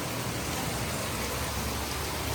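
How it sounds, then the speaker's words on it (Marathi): Heavy rain pours outside at night beside a swimming pool, a dense, steady hiss that holds at an even level throughout, with no voices. "जोरदार पाऊस बाहेर."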